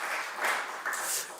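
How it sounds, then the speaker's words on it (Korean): A church youth group audience claps during a sermon, a short burst of scattered hands clapping in gentle waves, moderately loud in a room. "박수 한번 쳐주세요."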